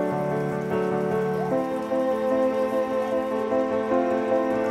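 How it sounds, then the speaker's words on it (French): Rain falls steadily in Costa Rica, a constant patter of drops on surfaces that fills the whole moment, with no voices heard. "Il est sous la flotte, il pleut."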